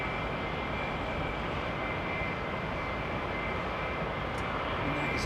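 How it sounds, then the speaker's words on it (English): Boeing 787 Dreamliner jet on a long takeoff run at London Heathrow, a steady broad engine roar with a faint high whine, loud and continuous throughout. "Usually a very long run for the Dreamliner."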